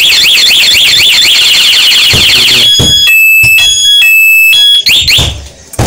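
A Honda Beat 2014 motorcycle's anti-theft alarm wails in a rapid rising-and-falling siren, then switches to a string of loud, sharp electronic chirps and beeps.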